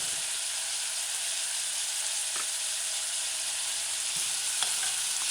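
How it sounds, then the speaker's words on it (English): A chickpea, mushroom and pepper stew sizzles in a pot with garlic while being stirred, a steady close hiss broken by a few soft scrapes and clicks of the utensil, with no talk. "just kind of stir in the stew. Stir in the pot."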